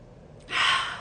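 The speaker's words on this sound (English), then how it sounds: "Deep breath in." A single deep breath drawn in through the mouth, close and soft, a breathy inhale rising after a quiet pause and holding for about half a second.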